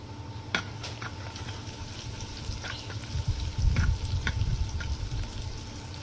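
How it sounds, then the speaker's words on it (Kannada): Garlic frying in two spoons of hot oil in a pan, a steady close sizzle with light stirring scrapes and clicks, swelling briefly louder partway through, no voices. "ಈಗ ಎಣ್ಣೆ ಬಿಸಿ ಆಗ್ಯದ. ಈಗ ಇದಕ್ಕೆ ಬೆಳ್ಳುಳ್ಳಿ ಹಾಕ್ಕೊಳ್ತೀನಿ ರೀ"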